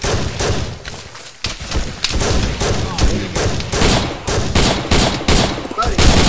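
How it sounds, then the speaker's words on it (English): Sustained battle gunfire crackles close and loud, overlapping rifle shots and bursts popping in a steady barrage with a brief lull near the start, a heavy thump or two mixed in during an open-ground firefight. "we're also getting shot at from over there out in the open"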